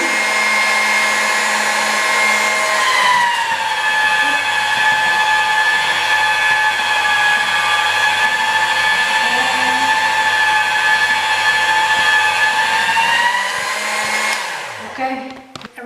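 A pasta machine rolls dough for chicken and lemon ravioli with a loud, steady motorized whir that holds evenly for about fourteen seconds, then winds down and stops, with no talking.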